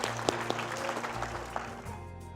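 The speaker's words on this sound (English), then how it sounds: "A little round of applause." Students and guests at a scholar program party give a faint round of applause, scattered clapping with a few sharper claps over a low background hum, fading toward the end.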